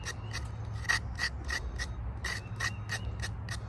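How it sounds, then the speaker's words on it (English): A knife scraping the skin off a vegetable for a Caribbean ital cook-up, a steady run of about a dozen short rasping strokes, close and fairly loud over a low background hum, with no talk. "Some people peel it, but all I do, I scrape it. I scrape off a part of it."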